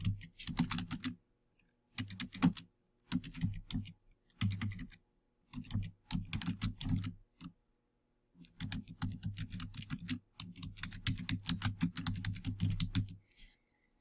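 Fast typing on a computer keyboard, dense bursts of key clicks in several runs separated by short pauses, close and fairly loud with no talking.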